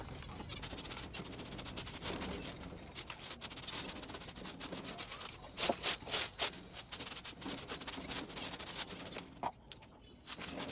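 Quiet scraping and rubbing as a pigeon cage gets cleaned, irregular brushing strokes with a few sharper clattering bursts midway, no talking.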